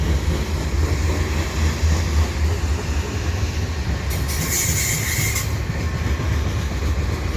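Freight train led by three engines hauling grain hopper cars at Dorval: a loud, steady rumble of rolling wheels and cars with a brief high squeal partway through, continuous throughout.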